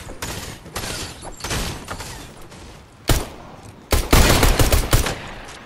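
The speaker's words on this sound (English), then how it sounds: "Oh, I have I have AK-47" AK-47 rifle gunfire sounds in several loud bursts of shots, the heaviest near the end, with rapid bursty fire rather than single spaced shots.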